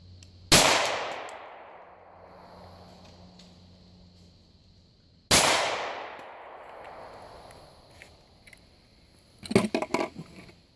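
Two loud, close 9mm hollow point gunshots about five seconds apart, each a sharp crack with a long decaying echo, followed by a brief cluster of clattering knocks.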